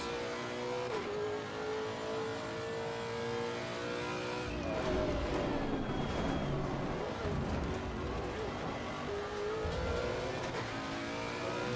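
A race car laps a circuit in a sim racing video game, its engine droning steadily with gear-change shifts and a rising, busier rev in the second half, fairly loud throughout with no talk over it.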